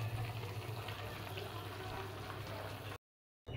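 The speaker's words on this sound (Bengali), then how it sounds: "এবার ফুলকপিটা নাবিয়ে জল ঝরিয়ে নেব।" Water drains and splashes steadily from steamed cauliflower being lifted out in a kitchen, a continuous close bubbling pour that cuts off abruptly near the end.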